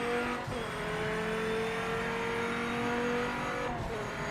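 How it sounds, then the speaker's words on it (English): A V10 race car engine in the Project Motor Racing video game holds a loud, sustained high-revving drone with steady harmonic whine, briefly dipping as if shifting gears near the start and end. "the old V10."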